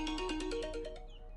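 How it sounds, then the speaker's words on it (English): A phone ringtone from an incoming call plays a short stepped melody of bright electronic tones, close and fairly loud, lasting just over a second before fading. "Sorry about the phone call coming through."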